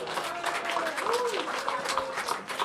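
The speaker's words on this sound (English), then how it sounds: "You may give him a small round of applause." Small audience at a birthday party in the House of Lords, London, giving a brief, modest round of applause, steady clapping for a couple of seconds.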